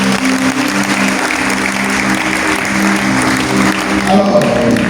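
Church congregation at a charismatic renewal gathering applauding steadily throughout, a dense continuous wash of clapping with crowd voices and talk mixed in.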